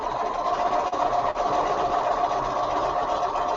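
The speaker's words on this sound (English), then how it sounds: "I'm literally just stitching in the ditch" A sewing machine with a walking foot stitches in the ditch on a quilt, running as a steady, loud, close mechanical whir with two brief dips in speed.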